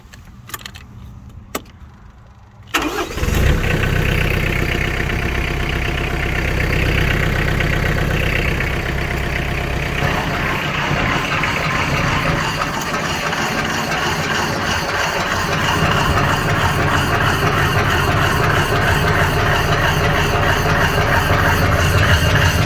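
After some quiet rattling, the engine of a Cosmo 500 spreader setup starts and settles into a steady, loud, continuous running drone that lasts to the end, with no talk.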